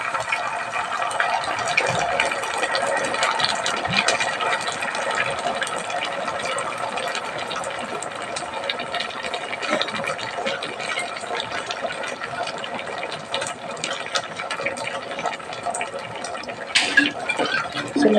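Liquid is poured from a bottle into a cooking pot for chicken wings with pineapple tidbits, making a steady splashing, gurgling stream close up that lasts throughout with slight variations and a small clatter near the end.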